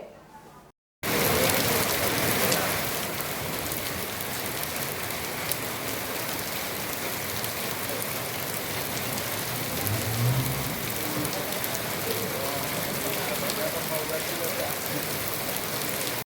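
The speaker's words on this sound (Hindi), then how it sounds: "शाम होते ही बारिश के साथ कई इलाकों में ओले भी गिरे हैं।" Steady rain pours down on an evening in the Gorakhpur area of Uttar Pradesh, with hail reported falling alongside it; a dense, continuous hiss of drops on surfaces fills the whole stretch after a brief quiet start.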